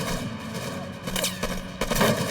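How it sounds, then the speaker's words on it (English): Gunfire from a SWAT team opening fire on gunmen during a robbery confrontation, a dense burst of overlapping shots and booms in rapid succession, loud and close, with a heavier cluster near the end. "The SWAT members open fire."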